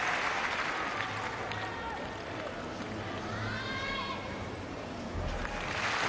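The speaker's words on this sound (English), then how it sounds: "Great roar from the crowd" Arena crowd noise with sustained applause and a rising roar at a men's team gymnastics competition during the 2006 Commonwealth Games, steady and fairly loud throughout, with faint voices mixed in.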